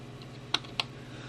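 Two quick clicks of a computer keyboard key being pressed on a desktop PC, sharp and close, spaced about a quarter second apart over a quiet background hum.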